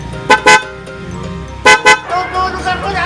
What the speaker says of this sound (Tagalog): ang tutunog dyan yung pinalagay nating busina